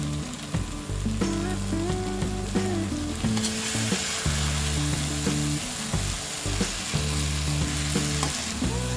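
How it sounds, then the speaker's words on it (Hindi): Radish sabzi frying on a low flame in a pan gives a continuous crackling sizzle, with frequent spatula scrapes and stirring knocks throughout, fairly close and with no voices. "हमने 8 से 10 मिनट तक लो फ्लेम में सब्ज़ी को फ्राई कर लिया है"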